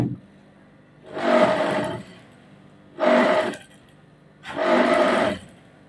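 Sewing machine stitching a princess armhole bustier, running in three short bursts of about a second each with brief pauses between, close and clear with no talking.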